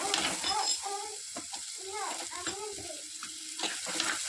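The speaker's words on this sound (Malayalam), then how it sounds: "എന്നിട്ട് നമുക്ക് നല്ല പോലെ ഒന്ന് വഴറ്റിയെടുക്കാം." Onion, green chilli, ginger and garlic being sautéed in a pan give a steady, close sizzle throughout, with a voice talking over it.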